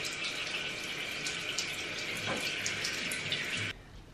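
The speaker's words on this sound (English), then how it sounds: "Just filling up my water bottle." Kitchen or bathroom tap running steadily to fill a water bottle, a continuous close hiss of flowing water that stops abruptly near the end, no talking.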